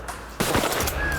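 A loud shotgun blast rings out during a bird hunt, one sharp report followed by a lingering rumbling echo outdoors, with no talking.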